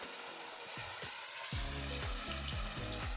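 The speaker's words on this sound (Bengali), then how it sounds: "এখন এক এক করে মাছগুলো দিয়ে দেব, দিয়ে একটু মাছগুলো ভেজে নিচ্ছি।" Fish pieces go one by one into very hot oil for a Bengali paturi recipe, each landing with a sudden loud sizzle that crackles and spits steadily and close by, with no talk.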